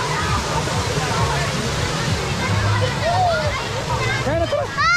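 Floodwater rushes and sloshes past in a continuous churning roar, with voices talking and calling out over it throughout, and a few high shouts near the end.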